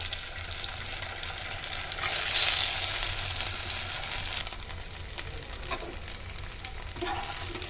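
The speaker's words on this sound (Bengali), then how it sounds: "এই যে স্টিম করাটা নিয়ে আমি এর মধ্যে দিয়ে একটু নেড়ে চেড়ে নেবো" Steamed flattened rice (chira) is stirred in a frying pan with a soft, steady sizzle of oil and scattered scraping stir strokes, fairly quiet and close, with no speech.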